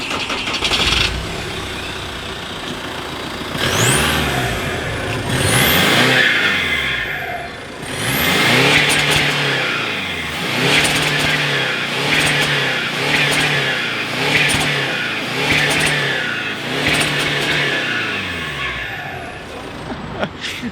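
A remapped Volkswagen 2.0 TDI diesel engine revs repeatedly through a muffled exhaust, rising and falling in a string of close, loud bursts over a steady idle, with brief talk at the start.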